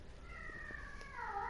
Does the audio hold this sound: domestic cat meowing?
yes